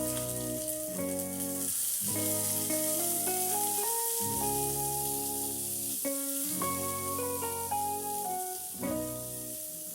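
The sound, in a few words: mustard seeds, dried chillies and curry leaves sizzling in hot oil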